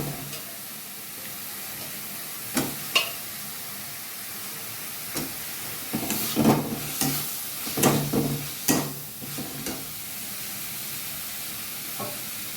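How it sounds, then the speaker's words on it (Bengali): Small chopped potatoes frying in a pan alongside prawns and sponge gourd, a steady hiss of hot oil broken by several sharp clatters and scraping bursts as they are turned. "এর সাথেই আমি দিয়ে নেব কুচিয়ে রাখা আমার আলু, ছোট ছোট কুচিয়ে রাখা আলু।"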